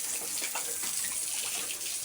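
Water spraying steadily from a hose or tap as hens are bathed, a continuous hissing gush with no talk over it.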